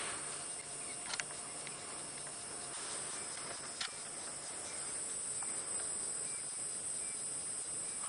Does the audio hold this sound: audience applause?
no